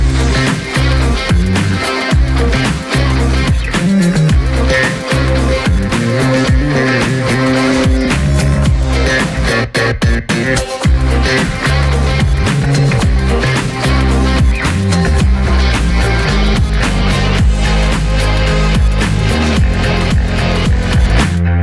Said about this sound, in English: When you enhance the bass lines in these soundtracks, this is what you get.